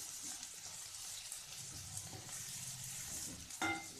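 Onions fry in oil over a low flame, giving a soft, steady sizzle with faint stirring scrapes, heard quietly and alone with a brief clink near the end.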